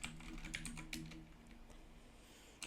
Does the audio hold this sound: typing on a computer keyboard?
yes